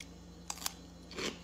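Crisp crunch of biting into a kosher dill pickle seasoned with garlic and peppercorns, a couple of sharp close snaps followed by a fuller crunch, quiet and close with no talking.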